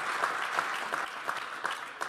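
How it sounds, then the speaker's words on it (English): Audience applause from a live-stage tech conference crowd, steady moderate clapping that carries on without break, somewhat distant, with no talk over it. "I saw a few silent applauds there, so feel free to applaud broadly"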